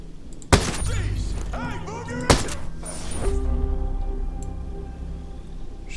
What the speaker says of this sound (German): Schüsse gehört.